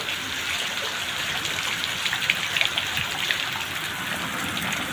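Heavy rain pours down in Karachi, a steady, moderately quiet hiss of falling water with scattered louder drops and no voices.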